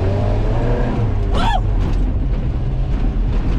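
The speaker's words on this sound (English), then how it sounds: "I think we're ready for an actual test drive" A 1981 Ford Courier pickup, an old U-Haul work truck with a freshly tuned carburetor, drives steadily on a road with a constant engine and road drone, while a voice briefly whoops partway through.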